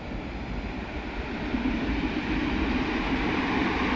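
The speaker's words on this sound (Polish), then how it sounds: "Zobaczysz sobie, jak jedzie ciuchcia." A small train passes by with a continuous rumbling rolling noise that grows slightly louder midway, heard alone and moderately near.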